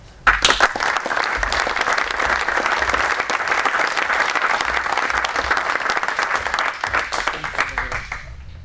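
Audience applauding the award winners at a 2015 automotive vehicle maintenance final in Rodez, loud sustained clapping from a crowd that runs unbroken for about eight seconds, with some voices mixed in.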